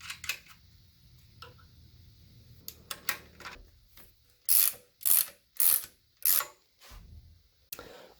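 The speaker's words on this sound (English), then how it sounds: "I'm going to run my mounting bolt all the way through." Ratchet driving a mounting bolt on a Pontiac V8 during serpentine belt installation: scattered light clicks and fiddling, then four loud, evenly spaced bursts of rapid ratcheting clicks, close by.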